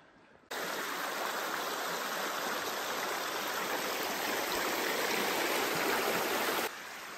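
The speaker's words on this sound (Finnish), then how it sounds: "Ei ole enää kuin minun ja tahvon välissä tämmönen pieni joki" A small river in Urho Kekkonen National Park in Finnish Lapland, recorded during an August hike, rushes with a steady, close, full-bodied wash of water. It cuts in suddenly after a moment of quiet and stops near the end.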